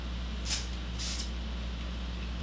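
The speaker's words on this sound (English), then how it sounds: "Am I supposed to shake it before I spray it?" Two short hissing sprays from a spray bottle, close up, the first sharper than the second, against a low steady hum.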